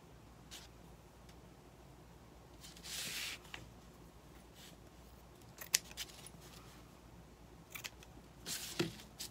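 Scissors trim ribbon tails on a decorated whisk broom, a few short, quiet snips and rustles spread apart over faint room hum, close by.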